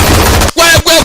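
Loud bursts of gunfire from an action movie: dense rapid machine-gun fire, then two separate short volleys after a brief break.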